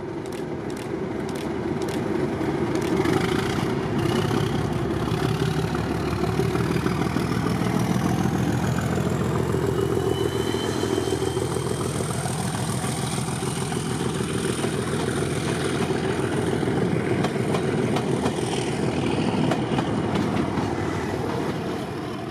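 Diesel locomotives running in Lowestoft, East Anglia: a loud, steady engine drone with a deep throb and clattering rail noise, a rising whine sweeping through the middle, continuous and close with no voices.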